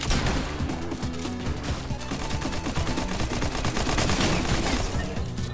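Sustained automatic gunfire in the Fortnite video game, dense rapid loud shots rattling continuously without a break.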